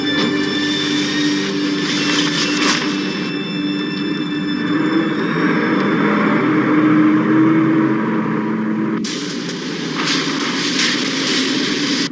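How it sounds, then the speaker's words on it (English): A truck drives off a pier, its engine a loud, steady droning rumble with tonal whine that holds throughout, swelling slightly midway and shifting in texture near the end, with no voices present. "That truck coming off the pier."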